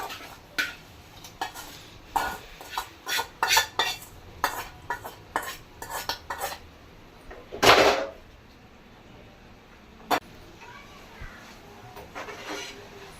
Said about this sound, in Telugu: ఇలా దగ్గరికి అయిపోయినప్పుడు మనం ఈ చేపలు కలిపేసుకోవాలి